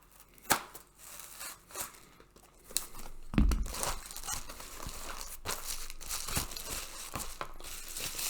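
Plastic comic book packaging is crinkled and cut open in short, close bursts of crackling and snipping, with a heavier rustle midway, quiet and with no talk.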